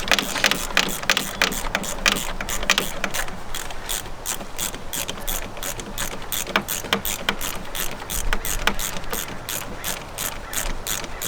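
A hand ratchet clicks rapidly and continuously, loosening an E12 socket bolt on the oil filter housing of an E70 BMW X5 with the N55 engine, a dense, close metallic pawl chatter that goes on for over ten seconds.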